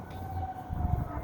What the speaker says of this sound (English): Just like right there, the ambulance is going there.